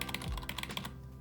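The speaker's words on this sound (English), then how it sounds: "And yeah, my old Corsair keyboard," Rapid typing on an old Corsair membrane computer keyboard, a dense run of soft, muffled key presses at close range that stops abruptly near the end, leaving quiet room tone.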